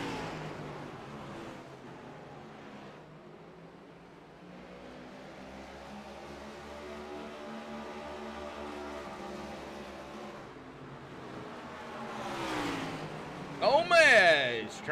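Race cars circle Richmond's short oval in a sim racing game, a steady engine drone with pitch rising and falling as cars pass, topped by a sharper high whine near the end, all under continuous commentary.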